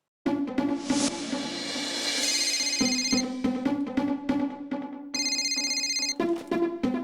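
A telephone rings during an outgoing call in an Indian TV sitcom scene: repeated bright electronic ring bursts, close and clear, with short gaps between them.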